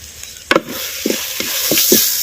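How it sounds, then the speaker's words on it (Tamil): Raw mango masala sizzles and hisses in hot oil while a spoon stirs and scrapes the pan in several short knocks, close up. "சேர்த்த மாங்காய் மசாலாவை அப்படியே எண்ணெயில் நல்லா வதக்கு"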